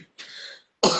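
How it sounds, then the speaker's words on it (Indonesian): A short cough followed by a throat-clearing cough, close and fairly loud, with no speech. "masih batuk-batuk."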